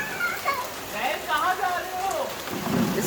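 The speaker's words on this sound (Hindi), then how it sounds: "क्रेजी बारिश हो रही है," Heavy rain pours down in a steady broadband hiss with a low rumble of thunder, while children's voices and chatter rise over it.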